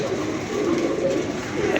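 A striped pigeon gives a short, low murmuring coo close by in a pigeon-keeping setting, heard over steady background hiss.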